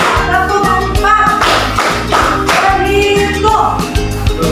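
A classroom group claps hands together in a counted rhythm, loud and close, with sharp regular claps and thumps repeating in quick patterns and no talking.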